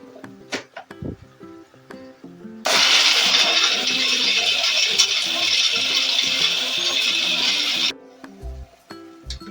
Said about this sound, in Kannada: ಇದನ್ನೆಲ್ಲ ಮಿಕ್ಸಿಗೆ ಹಾಕೋತಾ ಇದ್ದೀನಿ.